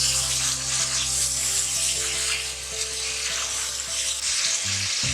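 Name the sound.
meat frying in pan with garlic and turmeric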